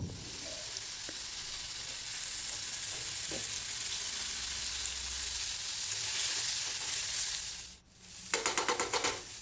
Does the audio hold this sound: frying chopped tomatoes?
yes